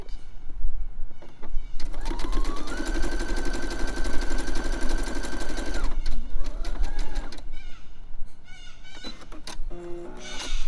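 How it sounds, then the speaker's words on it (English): A sewing machine runs a zigzag stitch along a tote bag seam, a loud steady mechanical whir with a rising pitch as it speeds up, a brief pause, then another short burst of stitching. "I'm going to swap back to my zigzag, zigzag stitch this side"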